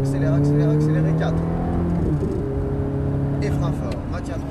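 A Ferrari F430 accelerates hard at full throttle on a driving course, its engine note climbing steadily and loud, while an instructor's voice talks over it.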